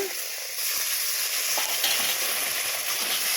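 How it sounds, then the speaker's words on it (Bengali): Spinach and mixed vegetables with red chili powder and turmeric are stirred in a pan after a splash of water, giving a steady close sizzle with soft scraping and stirring noises. "অল্প করে জল দিয়ে আমি নেড়ে চেড়ে নেব।"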